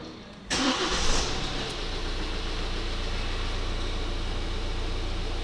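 A Kia Sportage engine cranks and catches after a short pause, then settles into a steady idle hum close by.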